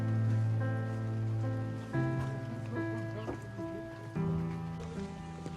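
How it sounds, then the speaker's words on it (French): Nighttime rain falls in Corsica during a GR20 mountain trek, a steady patter on a surface, likely a tent, heard up close beneath prominent tonal hum and sustained sounds. "Sous la magnifique pluie corse, première pluie corse."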